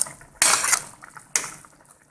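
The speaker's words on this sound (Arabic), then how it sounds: "دلوقتي بقى هضيف لها البطاطس" Raw potato chunks tumble into a pot of spicy braised chicken boiling with spices and onion, two sharp clattering splashes against the metal pot about a second apart, each fading quickly in a quiet kitchen.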